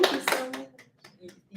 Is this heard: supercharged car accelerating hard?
no